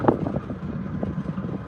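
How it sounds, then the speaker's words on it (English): Strong gusting wind buffets the microphone beside a Norfolk Southern railway line at Oakdale, Tennessee, a steady low rumble with fluttering flaps throughout and no voices. "I mean, it is just miserable windy."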